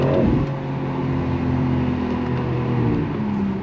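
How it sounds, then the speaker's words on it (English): A BMW X4 M Competition with the S58 engine accelerates hard, giving a loud, sustained engine drone with a steady rising tone heard close from inside the cabin, with no talk over it. "It has the S58 engine like the M3 I drove, like the M3 G80."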